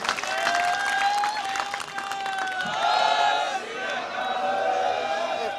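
A large crowd claps and cheers loudly, with whoops and shouts rising over sustained applause throughout.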